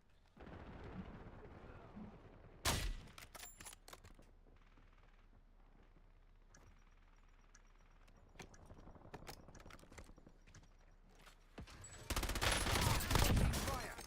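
Gunfire and explosive bursts in the Warzone video game, with sharp loud volleys early, scattered shots through the middle and a heavy sustained barrage at the end, under faint background voices.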